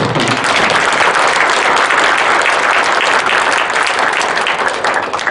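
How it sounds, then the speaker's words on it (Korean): Sustained, loud applause from an audience at a public humanities lecture series at Changwon court, steady dense clapping filling the whole stretch without talk. "다시 한번 뜨거운 박수 부탁드립니다."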